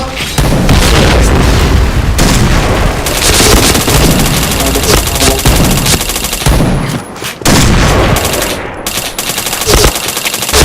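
A video game firefight is loud and continuous, with rapid machine-gun bursts and heavy grenade booms packed together and barely a pause between them.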